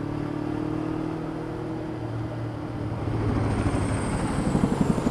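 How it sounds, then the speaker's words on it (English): A low-flying Chinook helicopter passing overhead, heard as a loud roar with a rhythmic rotor thump that builds and grows more pronounced toward the end. "That was a Chinook, ladies and gentlemen."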